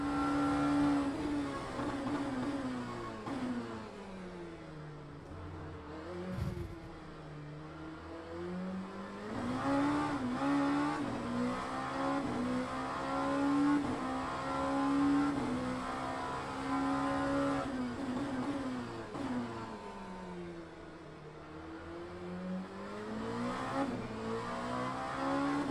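A race car engine in the Le Mans Ultimate racing game drones steadily, its pitch climbing and falling through gear changes over a long stretch, loud and continuous with no talking.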